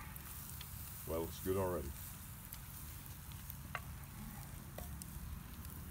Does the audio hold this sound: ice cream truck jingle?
no